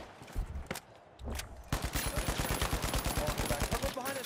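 Gunfire in the shooter game The Finals: a couple of separate shots and a short burst open it, then a rapid, steady automatic stream rattles on close and loud, with a voice talking faintly beneath.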